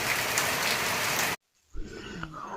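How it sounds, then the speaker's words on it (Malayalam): Heavy, continuous rain pours as a dense, loud hiss, then cuts off abruptly midway, giving way to quieter indoor sounds. "മഴ നിർത്താതെ പെയ്യുന്നുണ്ട് കേട്ടോ."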